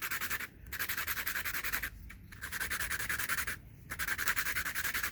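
Steady rhythmic rubbing of a flintknapping tool being sharpened, close and fairly loud, running in repeated strokes with two short pauses; no talking.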